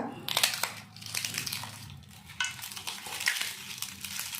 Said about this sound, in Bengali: কড়কড়া হয়েছে রে আবার শুনলে বোঝা যাচ্ছে